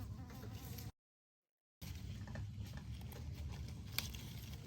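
A bee buzzing close by around flowers in a garden planter, a faint, steady insect drone with a short gap of silence partway through.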